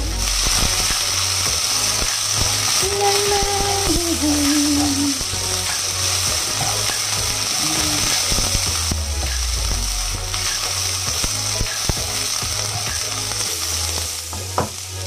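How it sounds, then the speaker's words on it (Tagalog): Red onion and ginger sizzle in a frying pan, a constant close hiss of frying with occasional stirring clatter and faint brief tones in the background, no talking. "Luya pa lang yan, guys. Mabango na. Next is red onion."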